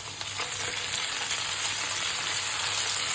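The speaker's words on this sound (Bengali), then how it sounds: "পেঁয়াজটা হালকা ভাজা হলে রসুন বাটা দিয়ে দিব, 2 চা চামচ রসুন বাটা দিয়ে দিলাম।" Two large chopped onions frying in oil with two teaspoons of garlic paste added, giving a steady, close hiss and crackle of sizzling with faint stirring underneath and no speech.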